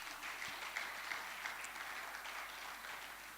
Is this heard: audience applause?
yes